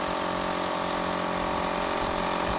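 A battery-powered air compressor filling compressed air rockets runs with a steady, loud mechanical drone and whine, unbroken from start to finish.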